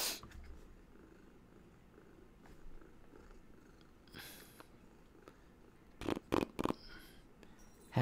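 A cat named Pearl purrs up close in a quiet room, a soft continuous low rumble, broken by a few rustles and sharp brief clicks near the end.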